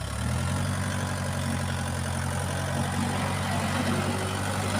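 A tractor engine idles close by: a steady, low diesel rumble with an even throb, continuous throughout with no change in speed and no talking.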